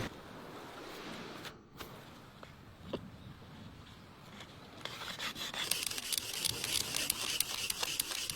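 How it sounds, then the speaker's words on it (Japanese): A piece of material is scraped by rubbing hard, as a survival skill on a deserted island: quiet scuffing at first, then a run of repeated gritty rasping strokes that grow louder and more regular toward the end. "部片の上で強く擦ればいい。 この部分を削るようにする。"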